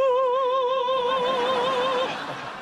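Someone vocally imitates two cogs meshing smoothly with a wavering, warbling hum that holds steady, then fades out.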